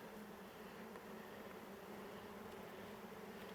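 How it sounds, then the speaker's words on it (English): Honeybees from a package hive buzz steadily and densely during a package install, a continuous close drone with no talk. "A few bees are going to get out."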